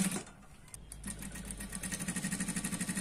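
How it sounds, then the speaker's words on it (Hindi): A sewing machine stitches a round neckline on a Punjabi dress, starting with a few uneven bursts and then settling into a fast, steady mechanical chatter, close and fairly loud. "सिर्फ आप यहाँ पे इसे राउंड में सिलाई लगाएंगे"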